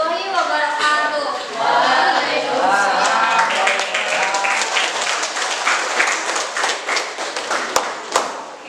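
Applause from a classroom audience for a presenting student group, a dense burst of many hands that thins into scattered claps, with voices talking over it near the start.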